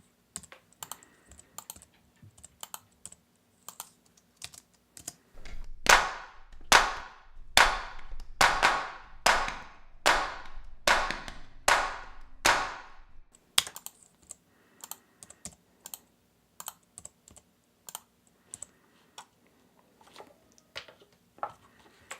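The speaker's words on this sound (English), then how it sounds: "I just rolled off the low end on these clap tracks" A run of sharp, evenly spaced hand claps from clap tracks in a country song mix, low end rolled off, about a dozen crisp hits in the middle after sparse ticking.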